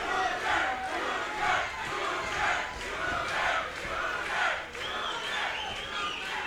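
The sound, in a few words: boxing crowd cheering and shouting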